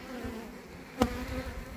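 Bees buzz steadily in an opened beehive during spring colony expansion, a close, continuous hum with one brief louder burst near the middle.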